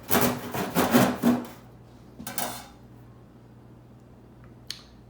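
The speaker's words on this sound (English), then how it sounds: "Just cut a few slices." A knife, one that needs sharpening, cuts thick slices from a homemade bread loaf, heard as a run of close crusty sawing strokes, then a brief second burst of cutting and a faint click near the end.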